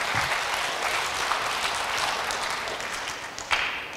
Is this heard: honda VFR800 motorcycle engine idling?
no